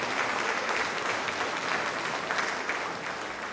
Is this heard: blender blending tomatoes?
no